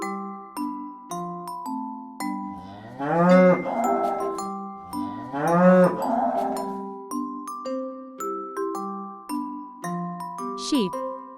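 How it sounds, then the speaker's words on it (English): A cow moos twice in long, deep, drawn-out calls, loud and close, over a light musical backing of plinking notes. "Cow."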